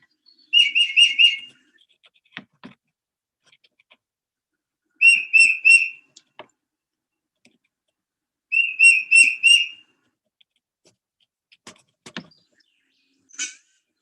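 A northeastern songbird whistles a clear, rapid 'peter-peter' phrase, three separate bursts a few seconds apart in quiet surroundings, with soft faint chips in between.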